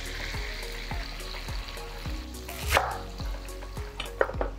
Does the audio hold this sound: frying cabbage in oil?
yes